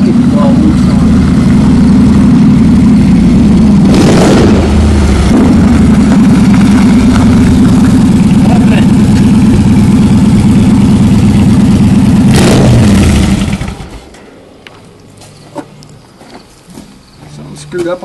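Car engine with worn, loose carburetor linkage runs steadily at a low, rumbling idle with a couple of brief revs, loud and close, then cuts off near the end, leaving quiet background.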